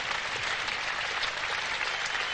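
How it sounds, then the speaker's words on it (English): Steady, dense applause from a modest cricket crowd greets a catch by Bob Willis at a 1978 Australia versus England Test match, a continuous wash of clapping at even loudness with no voices over it. "And a great hand for him from a crowd, not a very big crowd here this morning."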